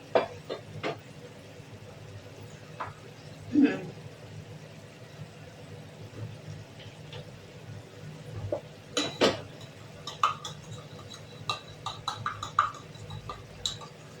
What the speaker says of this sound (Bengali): নর্মাল জলে আমি একটু মিল্ক পাউডার গুলে দিচ্ছি